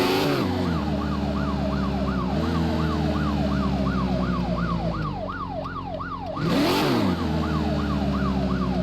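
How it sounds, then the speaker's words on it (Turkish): A police siren on a BMW i8 in the Car Parking Multiplayer mobile driving game wails in a fast repeating rise-and-fall yelp over a steady engine drone, loud and continuous with a brief dip near the end. "Evet şimdi polis sirenimizi açalım."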